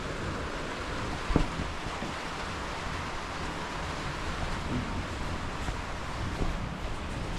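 Steady, dense wash of rain with gusting wind, a continuous broadband roar with a brief louder knock near the start and no voices.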